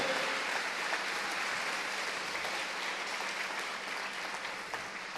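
Church congregation gives a strong round of applause, a dense, even, sustained clapping that holds steady at moderate loudness for several seconds.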